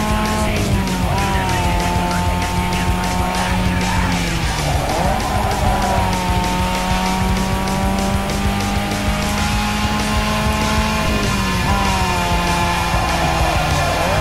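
Racing car engine in Need for Speed Underground 2, a car with weak acceleration: a loud, steady engine drone that rises and falls with gear shifts and cornering, with tire squeal, continuous throughout with no talk.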